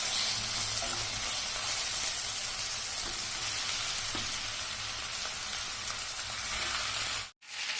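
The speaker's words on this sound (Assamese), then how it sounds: "মাংসটো 5 মিনিটমান ফ্ৰাই কৰাৰ পাছত তাৰ ওপৰত মই দৈ অলপ দি দিম।" Chicken frying in a pan with spinach, a steady, dense sizzle like light rain that runs evenly for several seconds with faint stirring clicks, then cuts off abruptly near the end.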